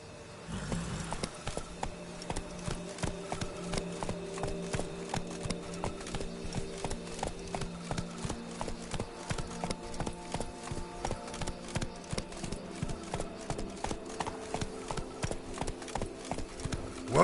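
Roach the horse in The Witcher 3 walks at a steady pace, hooves clip-clopping in an even rhythm over a soft ambient bed, with the beat continuing close and clear for the whole stretch.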